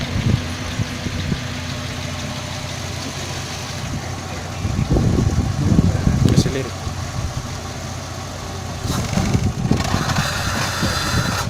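A car engine idles steadily after starting, a low continuous rumble with brief louder surges partway through, heard alone without talk.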